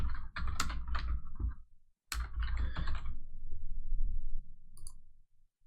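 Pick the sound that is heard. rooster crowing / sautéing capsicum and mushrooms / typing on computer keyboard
typing on computer keyboard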